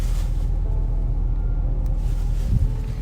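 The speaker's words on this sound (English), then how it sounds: "At a fuel station, truck is still idling." An oversized-tire pickup truck idles at a fuel station, a steady low engine rumble that holds constant throughout with a brief bump near the end.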